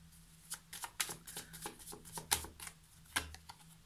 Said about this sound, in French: Je vais tirer une autre carte hein